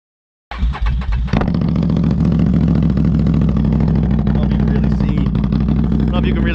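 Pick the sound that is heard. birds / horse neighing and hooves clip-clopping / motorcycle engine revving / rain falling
motorcycle engine revving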